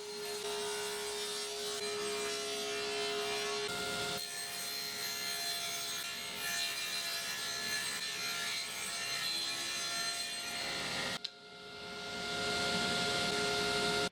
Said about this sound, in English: So the next step is to cut a dado in this piece.